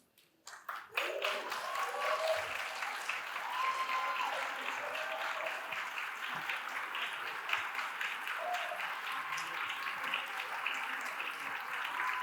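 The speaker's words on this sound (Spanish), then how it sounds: "Un aplauso para ellas" An audience at a Spanish-language LGBTQ talk gives sustained applause for people from Jalisco standing up, a dense, even wash of clapping that starts suddenly and carries on steadily at moderate distance, with faint voices mixed in.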